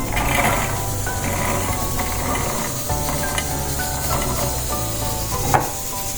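A mixer grinder crushes green peas in a steady, loud, continuous whirring grind with rattling, clattering texture throughout and no voices.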